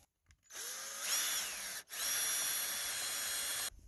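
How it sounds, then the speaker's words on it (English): Power drill boring into a wood stud above a wall with a 5/8 wood boring bit during a ceiling fan install: a sharp whine spins up, cuts out briefly, then runs again in a loud, continuous grind before stopping. "I'm gonna drill right down."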